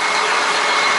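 A John Deere tractor engine runs at a loud, steady drone with a dense, even roar and no pauses, heard up close with no talking.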